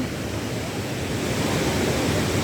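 Steady, dense roar of rushing water from Europe's largest waterfall, loud and continuous with no breaks or voices.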